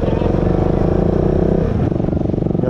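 Motorcycles and scooters idle and rumble nearby on a road, a steady, loud low engine drone with rising revs and a passing vehicle, while someone talks over it.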